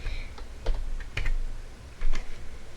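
Someone types a domain name on a computer keyboard, a few quick, close key clicks in small bursts with short gaps between them.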